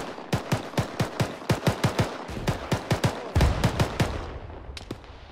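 Rapid gunfire from a house rings out in an Arma video game, a long run of sharp, evenly spaced shots in quick bursts, loud and close, with no talking.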